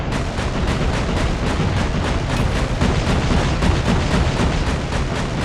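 Explosions from a VTOL air strike in Call of Duty Mobile on an iPhone X at very high graphics settings pound out as a dense, loud, continuous barrage of booms and gunfire-like blasts with no let-up.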